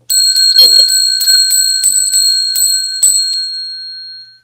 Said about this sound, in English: I need to ring the bell 10 times, 1 time for each 10 thumbs up.